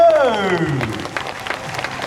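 A falling tone opens, then an audience awaiting a mascot dance show breaks into scattered applause that continues at a moderate level.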